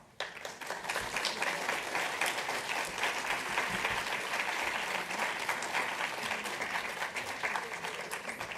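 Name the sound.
audience applause after a talk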